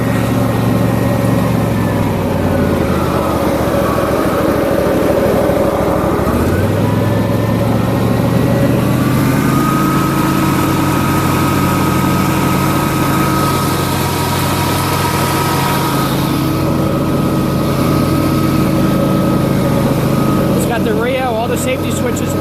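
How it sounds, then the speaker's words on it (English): John Deere LA150 riding mower with its deck running on mulching gator blades, a steady loud engine drone and deck whir with small shifts in pitch, and someone talking over it throughout. "It's a little loud because it's got the gator blades on it, which are mulch blades, and they create a lot of suction"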